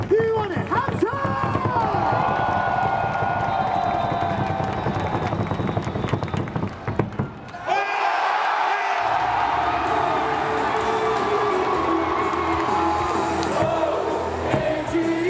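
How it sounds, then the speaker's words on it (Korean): Baseball stadium crowd at Jamsil Baseball Stadium cheering for an LG Twins player during a game against kt, a loud sustained roar with whoops and chanting, broken by a brief drop before the noise surges back. "다시 한번 우리 이영종 선수에게 응원의 함성."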